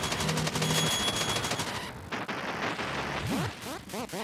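Rapid bursts of gunfire in the retro-styled game Retro City Rampage, with chirpy electronic tones and sweeping synth effects layered over the steady crackle of shots.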